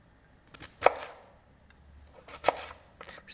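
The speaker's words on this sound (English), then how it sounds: "Cutting my fries." A knife slicing a raw potato into fries on a cutting board, giving two crisp, separate chops a couple of seconds apart with quiet in between.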